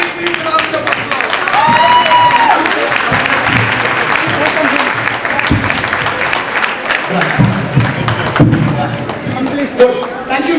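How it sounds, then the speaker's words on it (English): Audience at an education conference session applauding, a broad burst of clapping mixed with thumps and crowd noise, with speech-like voices and movement heard through it as the clapping fades toward the end. "Please give him a big, big round of applause."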